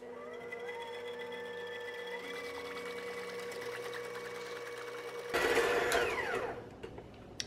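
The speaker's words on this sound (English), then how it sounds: "start off with 2 cups of heavy whipping cream. You wanna whisk that on high until it forms stiff peaks." An electric mixer whisks heavy whipping cream on high in a large bowl, a steady whirring hum with pitch shifts that rises into a louder surge near the end before winding down.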